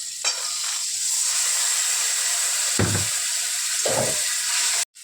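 Spice paste of ground coriander, cumin and dried chili mixed with water, poured into a hot pan: a steady background sizzle, then two loud splashing bursts of hissing as the liquid hits the oil, with a brief cut near the end.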